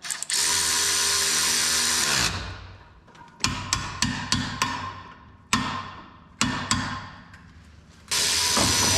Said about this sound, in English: And you bolt it back on.